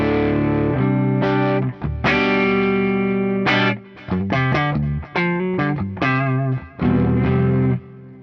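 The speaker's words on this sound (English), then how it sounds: "Here is the clean tone on the neck pickup." Clean-toned electric guitar on the neck pickup with volume and tone knobs fully up, run through an Axe-Fx 3 for wet effects: a string of ringing chords and plucked notes, each sustaining before the next, shimmering with chorus and reverb.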